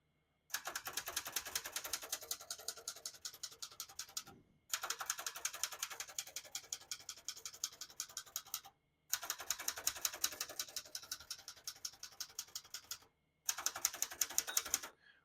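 Rapid, crisp key strikes on a 1957 Hermes Rocket portable typewriter come in four bursts of steady typing, separated by brief pauses, close and clear with no talking.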